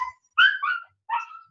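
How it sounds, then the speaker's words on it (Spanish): Two house dogs yelping and whining in short high-pitched bursts, three close, loud cries separated by brief pauses, with no talk over them. "mis perros son muy chillosos cuando sale alguien de la casa"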